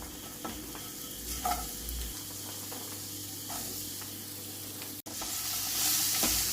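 Radish pieces sizzle in hot oil in a pan while a spoon stirs them, giving a steady frying hiss broken by scraping strokes and a brief cut near the end.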